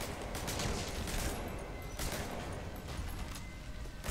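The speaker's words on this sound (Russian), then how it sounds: "главный герой сейчас через стол стреляет" Gunfire in the stealth-action video game Metal Gear Solid 5, with bursts of dense, rapid shots running steadily through the whole stretch at a loud, even level and no pauses.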